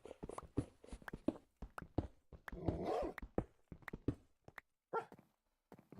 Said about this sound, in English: Stop barking at me, I say you.